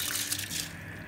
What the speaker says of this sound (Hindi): अब इसके अंदर हम भीगे हुए चावल डाल देंगे।